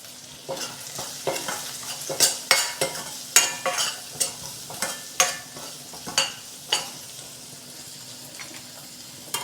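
Poha with turmeric and salt being stirred in a pan, a regular series of scraping spatula strokes about twice per second over a soft sizzle, with no voices.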